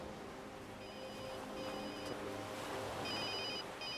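Mobile phone ringing with a repeating electronic ringtone in short bursts, faint beneath a steady broad wash of background noise, likely outdoors in Brittany.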